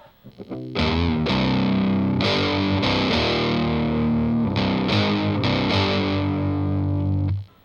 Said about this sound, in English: When the distortion kicks in,